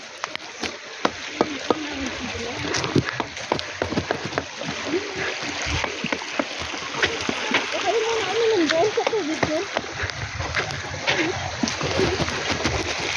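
Continuous splashing and rushing river water on a farm in South Korea, with scattered sharp splashes and people talking over it throughout.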